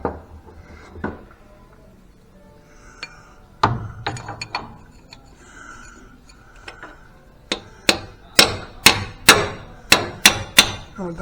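A screwdriver is hammered into a freeze plug on a small-block Chevy engine: a few scattered metallic taps, then a rapid series of about eight sharp, ringing hammer blows close by, with no talk.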